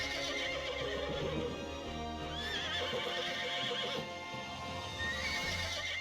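A horse in Mount & Blade II Bannerlord neighs loudly as it rears up, with hoof clip-clops and a dense game soundscape of music and ambience running steadily throughout.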